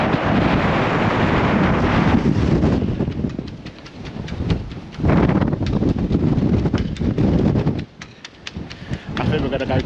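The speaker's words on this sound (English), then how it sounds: "very windy" Strong wind blasts across the microphone outdoors at Dover Castle, a loud rumbling buffet that surges and eases in gusts, with people speaking faintly beneath it.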